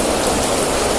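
Heavy rain pours down in a loud, dense, unbroken roar with no talking.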